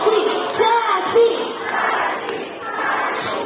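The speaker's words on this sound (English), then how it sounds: "Come on girls, let's cheer for Sassy." Girls in the audience of a bird and sea lion show cheer for a sea lion named Sassy, a mass of young voices chanting and shouting at a distance in a crowd, rising and falling in bursts.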